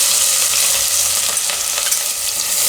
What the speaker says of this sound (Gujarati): હવે અમે ડુંગળી નાખીશું.